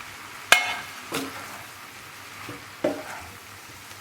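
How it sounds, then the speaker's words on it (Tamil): Bread upma being stirred in a frying pan, with a soft steady sizzle broken by a few sharp scrapes and clinks of the spoon against the pan. "இதை நல்லா எல்லா இடமும் படுற மாதிரி மிக்ஸ் பண்ணிக்கலாம்."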